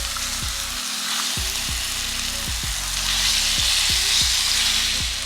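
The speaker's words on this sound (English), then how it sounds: "So we're gonna add some oil. And we're going to brown all sides." Chicken pieces browning in oil in a skillet, a steady close sizzle with a dense frying hiss throughout, no talking.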